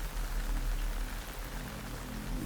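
Steady rain falls on surfaces, a dense, even hiss of drops with a low rumble beneath, constant throughout and with no voices.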